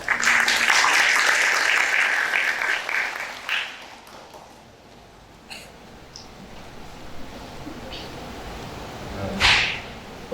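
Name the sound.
audience applause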